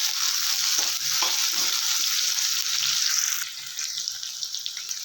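Chopped onions and curry leaves fry in a hot pan for a puffed rice breakfast, a steady bright sizzle that continues throughout, easing slightly toward the end, with no voices.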